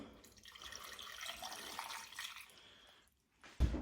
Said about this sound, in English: A load of water.